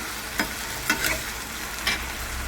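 Potatoes pan-frying, giving a steady low crackle and sizzle with a few sharp scraping stirs of a spoon against the pan, heard close with no talking.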